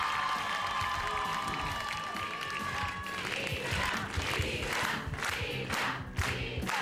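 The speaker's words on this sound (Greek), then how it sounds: "Δώστε ένα δυνατό χειροκρότημα στη Λίτσα." Studio audience applauding and cheering for Litsa on a Greek TV show, a dense sustained wash of clapping with crowd voices, tonal sounds fading early and louder bursts of claps toward the end.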